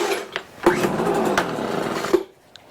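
Someone yanks the starter cord of a Craftsman leaf blower set to full choke and full throttle, though the blower will not start. A loud rattling, buzzing whir runs for about a second and a half, then cuts off to near silence.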